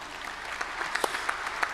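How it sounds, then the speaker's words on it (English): Audience applause for a conference speaker in a hall, a steady patter of clapping held at moderate level for under two seconds, with scattered louder claps standing out. "You can applaud him."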